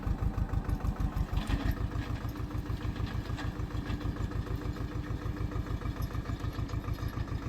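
A seed-sowing machine's engine runs steadily while planting maize in a farm field, moving slowly, with a loud, even chugging pulse that continues without pause from close by.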